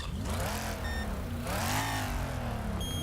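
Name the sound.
car engine warming up in Wreckfest video game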